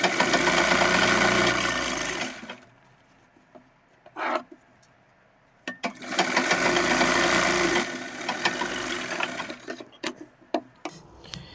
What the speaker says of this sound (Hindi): सिलाई लगाने के बाद इस तरह से हम इसको करेंगे और इस पर भी हम सिलाई लगा लेंगे।